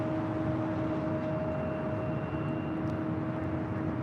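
An airliner arriving at LAX, a heavy jet on approach to runway 24 left, heard as a steady distant engine roar with a faint whine, alone and without talk.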